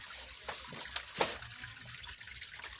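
Water runs into a cement pond used to raise climbing perch, making a soft, steady trickle with a few brief splashy surges, quiet and heard from nearby.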